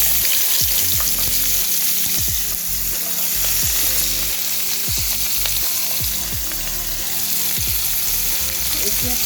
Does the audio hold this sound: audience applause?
no